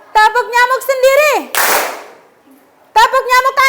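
A single sharp burst of clapping from children in the tepuk nyamuk clapping game at school, set between stretches of a sung or chanted voice before and after.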